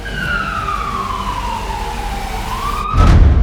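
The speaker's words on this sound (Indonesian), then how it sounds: "Halo, ambulan, cepat datang ke sini." A loud, close ambulance siren sweeping slowly down in pitch, then rising again before a burst of heavy rumble at the end.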